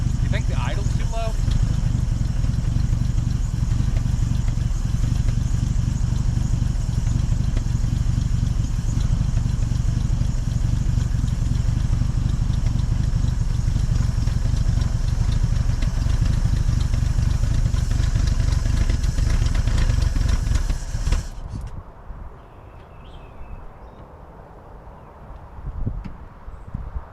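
A 1950 Dodge Meadowbrook engine idles steadily and loudly up close for about twenty seconds, a continuous low rumble with some clatter, then cuts off abruptly, leaving faint background noise.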